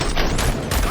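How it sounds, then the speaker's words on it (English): Gunfire in the Robocop Rogue City video game, a short dense burst of sharp shots that sounds loud and close, with no pause between the cracks. "Gunshots? What's going on?"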